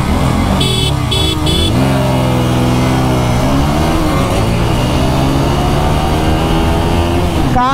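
A KTM Duke 200 motorcycle races in a drag run, its engine loud and close, climbing and dropping in pitch through gear changes under constant wind rush.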